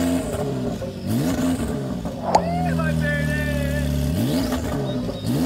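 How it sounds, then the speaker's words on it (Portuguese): Porsche engine revving loudly, its pitch swooping up and down in quick sweeps before holding a sustained high-rev howl, then dropping and climbing again, with a sharp crack partway through and voices underneath. "A Porsche não corta giro."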